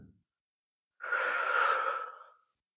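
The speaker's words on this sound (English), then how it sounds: "we'll take a deep breath in and hold it for 3, and then let it out for 3 as well" A single slow, deep breath, soft airy exhale swelling and fading over about a second and a half in a quiet room, with no talking.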